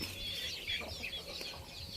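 Young three-month-old chickens cluck and chirp in a steady, busy chorus, with a brief flurry of wings partway through.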